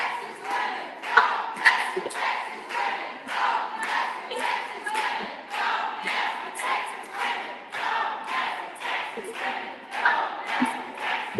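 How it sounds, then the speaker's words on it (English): Crowd at the Texas legislature chanting a rhythmic protest slogan about Texas women, steady repeated bursts of many voices with a regular cadence, loud and sustained throughout. "crowd chanting "Don't F with Texas women.""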